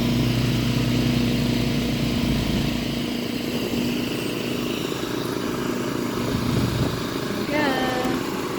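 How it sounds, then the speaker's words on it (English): A riding lawn mower's engine runs steadily while a child mows the grass on a cloudy day, a constant mid-pitched drone with a brief rise near the end. "cutting the grass using the lawnmower."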